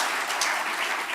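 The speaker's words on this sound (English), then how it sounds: "A big round of applause to yourself." A crowd at a corporate banking awards event applauds in a dense, even burst of clapping, loud and brief with no talking.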